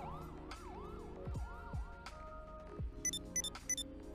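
Ambulance siren in the GTA video game, a wailing up-and-down tone with short sharp bursts near the end, fairly loud over engine rumble and other street noise.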